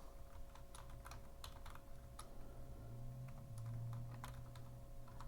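A terminal command is typed on a computer keyboard as a quick, irregular run of soft, close key clicks over a steady low hum, with a Linux system in the background.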